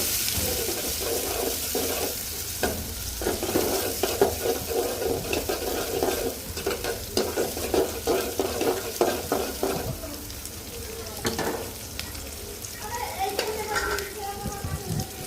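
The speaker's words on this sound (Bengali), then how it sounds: "চিংড়ি মাছগুলো দিয়েও ভালো করে ভেজে নিব" Prawns fry and get stirred in a pan, a continuous loud sizzle broken by repeated scraping and clatter of a spatula, with faint voices briefly in the background.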